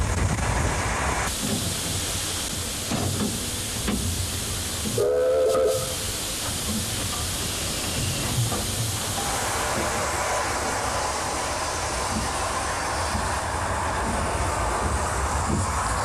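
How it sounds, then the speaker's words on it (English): Steam locomotive No. 24 William H. Austin pulling away light engine on a heritage railway incline, a continuous broad hiss of steam with chuffing underneath and a brief whistle-like tone partway through. "The locomotive departs light engine, climbing the 2-mile-long incline to Tenterden in order to pick up the morning passenger train"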